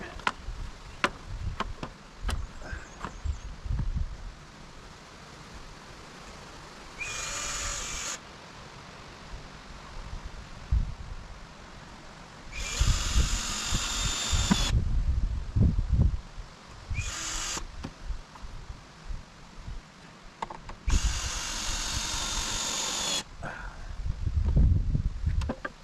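A cordless power drill drives screws into wood during a DIY build, with several separate whirring bursts of a few seconds each, close by, set against quiet ambient rustling and handling noise.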